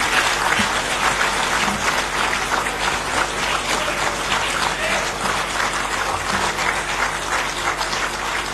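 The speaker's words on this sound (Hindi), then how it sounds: "कृपया तालियों की गड़गड़ाहट से इस विशेष अवसर का अभिवादन करें।" A large crowd at a government ceremony in India applauds steadily and loudly, the clapping sustained and dense without pause for the whole stretch.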